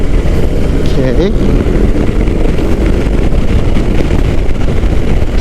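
A BMW R18 cruiser motorcycle ridden hard along a road, its engine a steady low rumble mixed with wind buffeting the microphone, continuous and close throughout.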